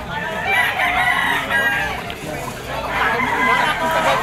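Rooster stags, yellow-legged birds among them, crow at a busy open-air poultry and pet market in Malabon, their calls rising over constant crowd chatter and bargaining voices.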